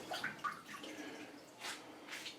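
Hands being rinsed under running water at a kitchen sink while making venison sausage, a faint splashing trickle that swells briefly a few times.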